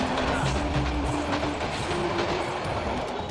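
A moving passenger train in Dhaka rumbles steadily with a continuous low roar and rhythmic wheel clatter, loud and close throughout, with faint voices mixed in.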